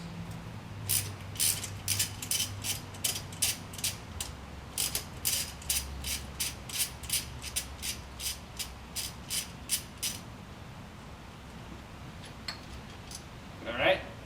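Ratchet wrench loosening bracket bolts on a 2006-2012 Mitsubishi Eclipse GT engine during fuel injector work: a long run of rapid, even clicking strokes nearby, then a pause and a clank, with faint talk in the background.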